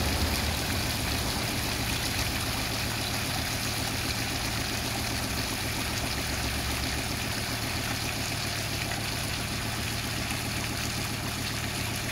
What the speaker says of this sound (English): when you push that back you just get an avalanche of water coming over